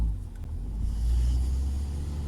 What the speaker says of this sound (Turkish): Evet ilk kalkışta hafif bir patinaj söz konusu oluyor.